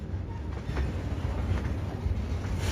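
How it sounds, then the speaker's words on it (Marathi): A train runs across a large railway bridge on the Ahmednagar–Beed–Parli rail line, giving a steady, loud rumble with faint wheel clatter that holds for the whole stretch, with no voices. "आपली रेल्वे जी आलेली आहे आपल्या सर्वात मोठा ब्रिज रेल्वे मार्ग बीड रेल्वे मार्गावर येत आहे ती जात आहे"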